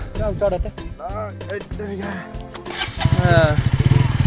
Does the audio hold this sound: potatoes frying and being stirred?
no